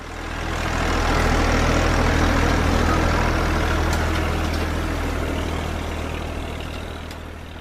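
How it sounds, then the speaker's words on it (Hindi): A heavy diesel tractor engine chugs steadily with a deep low rumble, loud and close, holding nearly constant throughout. "मैं समझ गई, ट्रैक्टर।"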